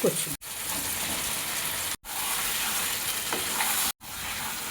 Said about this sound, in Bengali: কচু দিয়ে 3 থেকে 4 মিনিট মতন ভালোভাবে কষিয়ে নিলাম